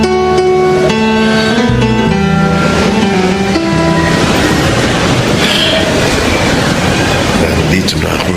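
A train rumbles past loudly and close, with a dense roar of wheels on rails and some squealing overtones throughout.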